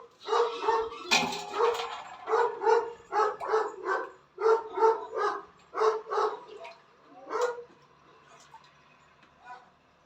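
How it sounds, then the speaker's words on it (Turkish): A dog barks repeatedly, loud and close, in quick clusters of yaps that thin out toward the end. "bizim köpek sesinden bir şey anlaşılmayacak arkadaşlar"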